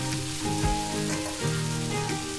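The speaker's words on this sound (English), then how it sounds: "fry this for about 3 to 4 minutes" Beef for a Goan chilli fry sizzles and spits in a hot pan, a continuous crackle with a few stirring clunks, close and moderately loud, no voices.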